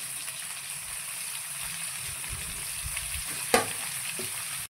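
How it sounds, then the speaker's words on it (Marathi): Chopped onions sizzle and fry steadily in a pan while being cooked golden for biryani, a constant close crackle with one brief louder clatter of stirring. "कांदा असं छान गोल्डन कलर येईपर्यंत आपल्याला याच्यावर भाजून घ्यायचा आहे"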